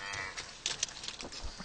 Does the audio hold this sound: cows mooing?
yes